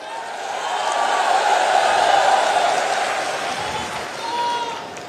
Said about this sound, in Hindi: आप लोगों ने जिस तरीके से तालियां बजाकर मेरा स्वागत किया है